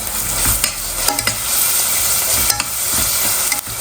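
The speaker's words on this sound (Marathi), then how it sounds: "त्याच्यामध्ये आपल्याला ही वाटलेली आपल्याला पेस्ट टाकायची आहे जे आपण वाटण करून घेतलं ना ते टाकायचं त्याच्यामध्ये ते पण आपण मस्त असं परतून घेणार आहोत" Ground masala paste is stir-fried with onion in a pan, a loud continuous sizzle with repeated scraping and stirring knocks from a utensil.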